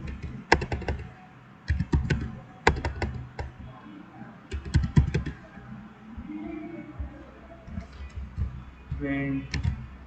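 Typing code on a computer keyboard, with bursts of close, sharp key clicks in quick clusters separated by pauses, while someone talks intermittently over them.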